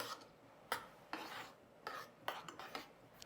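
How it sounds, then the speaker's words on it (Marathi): Washed rice is stirred with a little ghee in water in a pressure cooker pot, giving quiet, intermittent scraping and rasping strokes of a spoon against the metal, spaced roughly every half second to second, with no talking. "एकदा सगळं व्यवस्थित मिक्स करायचं"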